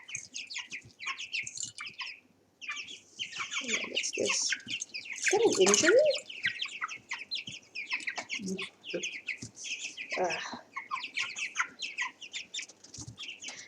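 Backyard hens cluck and murmur in a steady run of close, overlapping calls, while a person speaks over them partway through.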